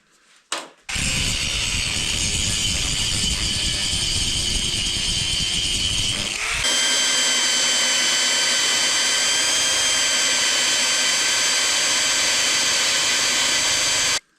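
A loud electric drill whirs steadily at high speed, its tone shifting partway through as it grinds into scrap metal, then cuts off abruptly.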